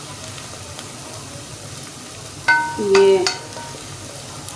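Onions frying in a pan give a steady background sizzle, and a brief burst of stirring and scraping partway through, with someone speaking briefly.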